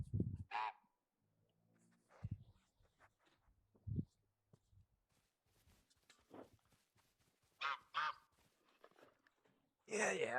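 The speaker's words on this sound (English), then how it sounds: "Yeah, I hear you, Goose." Geese honk intermittently in a quiet outdoor scene from TheHunter: Call of the Wild in Finland, several short, fairly distant honks spread out with soft ambient sounds between them.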